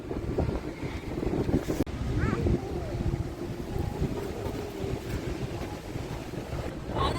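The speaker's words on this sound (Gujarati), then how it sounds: "પવન જોરદાર છે" Strong wind buffets the microphone at an outdoor park picnic spot in Visakhapatnam, a constant loud rumbling gust noise with a brief thump and faint distant sounds underneath.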